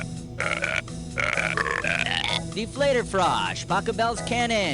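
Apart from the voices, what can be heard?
woman burping the tune of A Little Night Music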